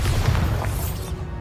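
A Bombarda spell explodes in Hogwarts Legacy, a single loud, close boom with a heavy low rumble that fades out over about a second and a half.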